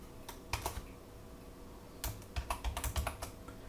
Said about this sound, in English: I wasn't finished typing.